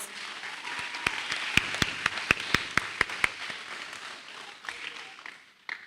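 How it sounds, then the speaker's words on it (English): A short burst of sharp hand claps from a small audience at a Year 6 graduation ceremony, rising quickly then thinning out after a few seconds over a faint room murmur. "Let's give them a round of applause."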